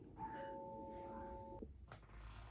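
Electronic doorbell chime ringing two clear tones, followed by a quieter second chime, heard indoors at moderate distance with faint background noise and no talk.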